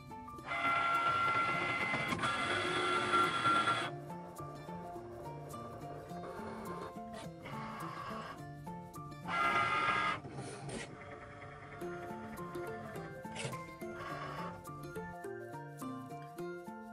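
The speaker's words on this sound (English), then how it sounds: "Press the Cricut symbol when it flashes, and the machine will make the scoring line on the card." A Cricut Maker scores a line on white cardstock, its motors whirring in long steady runs and shorter bursts with mechanical clicks between, close and moderately loud.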